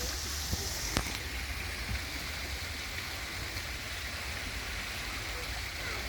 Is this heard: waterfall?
yes